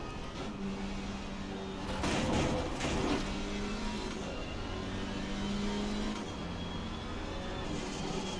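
Steady engine drone of a racing car in Assetto Corsa Competizione at Paul Ricard, swelling briefly louder around the middle and then settling back to a constant hum.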